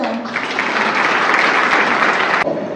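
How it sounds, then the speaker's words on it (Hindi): Audience applause fills the room at a lecture-style career talk, a dense, loud burst of many hands clapping together that holds steady for a couple of seconds and then cuts off abruptly. "ताली बजाओ।"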